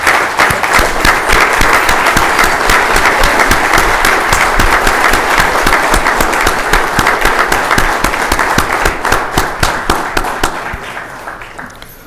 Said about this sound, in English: a standing round of applause